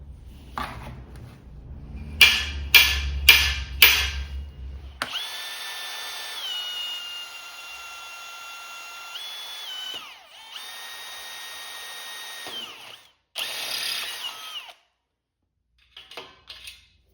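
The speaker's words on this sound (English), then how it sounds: "I'm going to pop a hole through the top of it" A power drill bores a hole through a steel post for a weld table: a few short bursts, then a sustained whining drill run that shifts pitch under load, ending in brief spurts and clatter.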